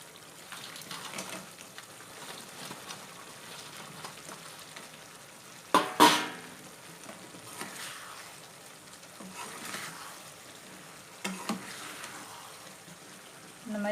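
Fried meal maker being stirred in a frying pan, a soft, steady sizzle with a sharp metallic scrape and clatter around the middle and a few lighter stirring scrapes, all quiet and close.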